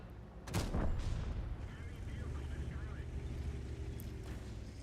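An artillery shell hits a tank in the video game World of Tanks with a loud, sharp boom that trails off into a long rumble, followed by low continuous battle noise and a faint later crack.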